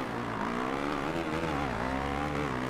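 A motocross bike in the MXGP 2 video game holds its engine at full throttle, a continuous high buzzing whine with slight pitch wavering, heard alone and fairly quiet.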